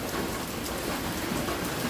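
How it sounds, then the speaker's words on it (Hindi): Heavy, continuous rain falls steadily throughout, a dense and loud broadband hiss of rain on surfaces with no pauses and no voices. "देखो वर्षा छाड़बार ना धरुनी, कंटिन्यू वर्षा होचे।"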